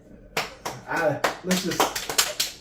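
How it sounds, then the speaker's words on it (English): Hands clapping in short, uneven bursts mixed with voices, a couple celebrating together, close and casual rather than steady applause. "We're clapping."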